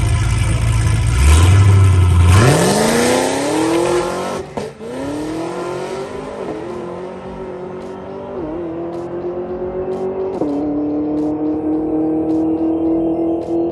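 A drag race car roars off the line with tire squeal and a loud launch, then the engine winds up through several gear changes as it pulls away down the strip, fading slightly.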